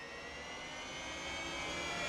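Electric Formula E race cars launching from the start of a video game race in Marrakesh, a loud, steady high-pitched whine that swells slightly without a break.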